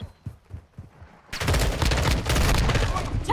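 Dense, sustained gunfire from a video game firefight begins abruptly after a quiet stretch of scattered shots and thumps, continuing loud and continuous to the end.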